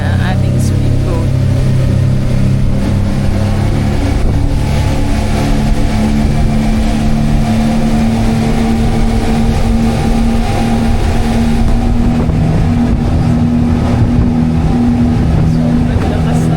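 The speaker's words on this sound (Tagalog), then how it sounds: "Paandar na ang ating speedboat" A speedboat serving as a sea ambulance bound for Basilan runs with a loud, steady engine drone close by. The low hum holds through the whole stretch under faint background voices.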